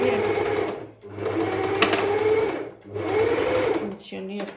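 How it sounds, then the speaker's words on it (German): A repaired domestic sewing machine runs in three steady bursts of whirring motor and rapid needle clatter, with brief pauses between, heard up close. "wie Sie sehen, wir haben die Nähmaschine repariert"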